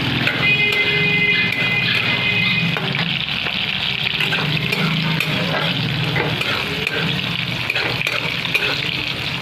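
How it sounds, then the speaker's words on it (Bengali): Ingredients for basanti pulao fry lightly in a pan with a continuous close sizzle and the repeated scrape and clatter of stirring, steady throughout with no voices. "হালকাভাবে ভাজবো।"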